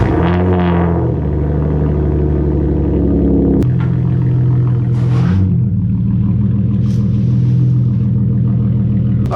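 A low-slung Hyundai Genesis Coupe creeping toward car ramps, a steady close engine rumble with a few revs and throttle blips, loud and continuous with no talking.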